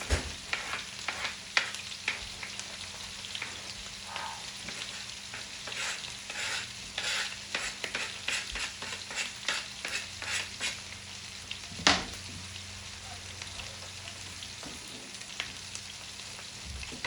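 Onions, with garlic already added, fry in oil over raised heat for a beef spaghetti sauce: a continuous close sizzle under quick, repeated stirring scrapes and clicks, and one louder knock partway through.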